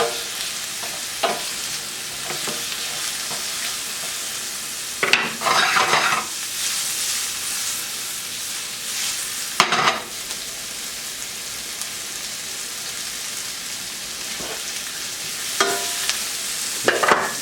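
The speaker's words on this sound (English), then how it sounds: "our lemongrass, we just want to stir fry this for a couple of minutes" Lemongrass and yellow peppers stir-fried in a hot pan, a continuous close sizzle broken by several loud bursts of spatula stirring and scraping, with no talking.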